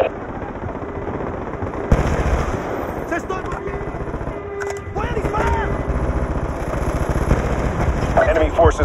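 Sustained automatic gunfire with heavy bursts and booms in the Call of Duty: Black Ops 2 Strike Force mission FOB Spectre, loud and continuous, with radio-style voices talking over the battle.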